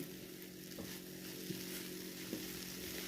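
Tawa pulao fried and stirred in a pan, a steady close sizzle running throughout with a few soft scraping knocks of the spoon against the pan.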